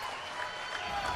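Pickleball crowd at a Major League Pickleball finals match applauding and cheering, a steady broadband wash of clapping that fills the moment without a break.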